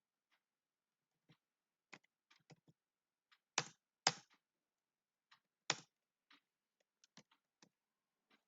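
Computer keyboard keys are pressed one at a time while data goes into a table, sounding as sparse, quiet clicks with a few firmer, louder strokes in an otherwise silent room.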